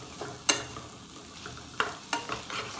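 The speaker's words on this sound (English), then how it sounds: "and I'm going to stir it about, stir it about, stir it about." Spicy mince meat with chilies being stirred in a pan, giving a few scattered scraping and clattering strokes over a soft, steady sizzle, close and fairly quiet.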